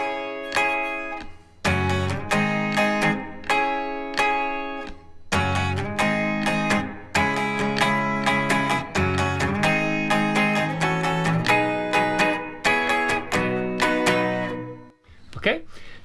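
Electric guitar picking out the chiming intro to a song in E, a steady run of ringing chords and strummed figures played close and clear, ending in a brief noisy scrape.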